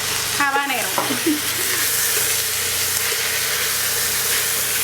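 Roasted red peppers and chopped red habanero hit a hot frying pan, giving a loud, steady sizzle with a brief stirring scrape near the start, continuing alone.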